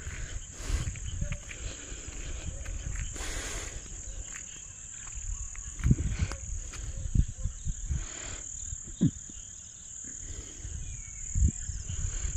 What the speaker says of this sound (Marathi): आणि रातकिडे किरकिर करायला लागलेत आता.